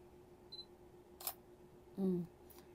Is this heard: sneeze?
no